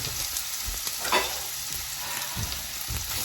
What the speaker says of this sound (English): let this saute these onions until they get some transparency on them